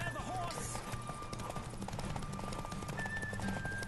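A horse gallops in The Witcher 3 with steady, rapid hoofbeats under layered game ambience and music, and a voice speaks over it.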